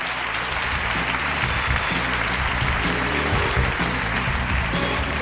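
A packed municipal auditorium audience applauds, steady loud dense clapping throughout, with a low rhythmic musical background running underneath.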